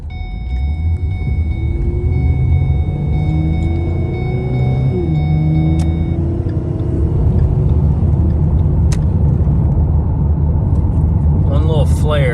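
A car with a newly installed used transmission drives through traffic, its engine droning loud and close, the pitch climbing, then briefly flaring and dropping as it shifts into third before climbing again.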